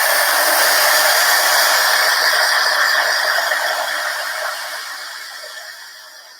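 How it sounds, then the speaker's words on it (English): A heat gun blows hot air to dry chalk paste on a craft surface, giving a loud, steady, close-up whooshing roar that slowly fades toward the end with no talking. "I'm using kind of a heat gun, girls, just because it's not as loud."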